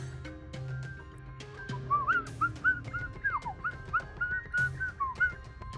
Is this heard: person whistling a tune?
yes